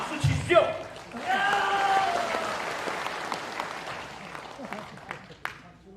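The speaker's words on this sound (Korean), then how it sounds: "박수 치십시오!" A hall audience at a Korean Vietnam War veterans' commemorative rally gives a standing ovation: a brief voice, then loud, dense applause rises and holds for several seconds before thinning out near the end.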